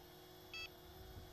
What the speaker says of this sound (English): When the throttle is in the centre, the transmitter will give out an audio beep.